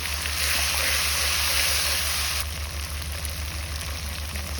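Ground spice paste with salt, cumin and mustard paste sizzles steadily in hot oil for a fish curry with potatoes and drumsticks, a close, even frying hiss over a low background hum, with no talking.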